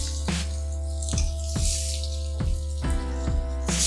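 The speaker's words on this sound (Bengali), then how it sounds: "জল দিয়ে দিচ্ছি।" Water pours into a cooking pot holding tomatoes for a hilsa recipe, heard as a run of splashy, dripping plops at a regular pace over a steady low hum, close by.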